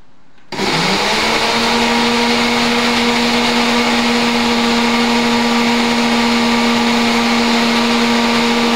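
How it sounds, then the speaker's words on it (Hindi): A small mixer-grinder jar blends mango pieces: the motor kicks in after half a second and holds a steady, loud whirring grind to the end, with no talking. "अब इसको मैं ग्राइंड करूँगा।"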